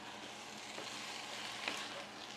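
Food sautéing in a pan while cooking adobo sizzles steadily, a continuous close hiss with a few soft scrapes of stirring, no voices.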